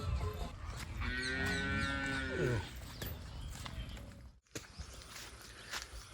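A buffalo nearby lets out a long, loud, drawn moo that falls away. Quieter shuffling, footsteps and a sharp knock follow.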